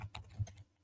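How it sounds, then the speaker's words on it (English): Soft, quick keystrokes tap on a computer keyboard, a few faint clicks in a short close-up burst with no talking. "No, I'm typing."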